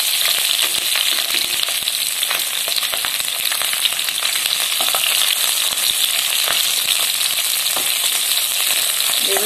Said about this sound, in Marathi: आता ह्या मिरच्या आपण ह्या तेलामध्ये घालून घ्यायच्या आहेत।